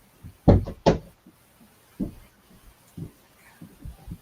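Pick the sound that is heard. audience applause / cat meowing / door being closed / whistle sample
door being closed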